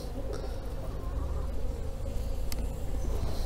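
A dense, continuous hum of many honeybees buzzing up close, steady and loud with individual bees droning in and out.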